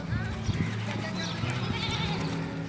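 Goats bleating in a Himalayan village in Nepal, several overlapping calls heard at moderate distance over a steady background with faint voices.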